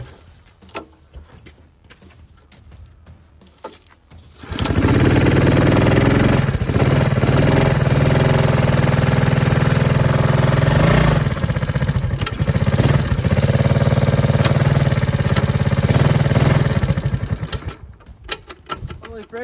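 Formerly seized 1984 Honda ATC 200S three-wheeler firing up after a few cranking attempts, then running loud and close with a steady, slightly uneven single-cylinder putter for about twelve seconds before shutting off.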